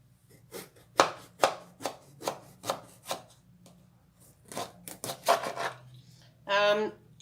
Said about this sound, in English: I'm going to start by cutting up some of the eggplants in halves